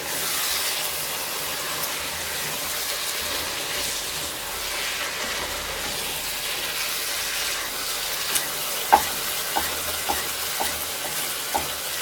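Ingredients for squid stifado sizzle in a pan with a steady, close frying hiss, and a few sharp utensil taps and stirring clicks come toward the end, with no speech.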